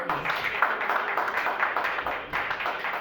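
Sustained applause from an audience at a foundation launch event, dense even clapping filling the room for the whole stretch without a break.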